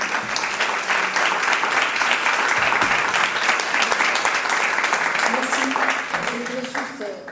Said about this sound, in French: je vous demande d'applaudir Martine.